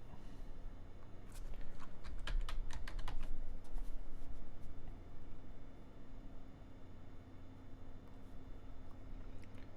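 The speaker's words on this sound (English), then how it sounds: "Man, a lot of typing." Rapid clicking of keys on a computer keyboard, a dense burst of strokes that thins into steadier typing under a constant low background hum, close and clear with no talking.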